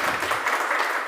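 Loud audience applause at a celebration for a newly selected Bihar police sub-inspector, a dense, steady wash of many hands clapping close by.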